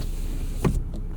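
The power moonroof of a 1988 Honda Accord LXi opens with a short electric motor whir and a soft clunk inside the cabin over a steady low hum.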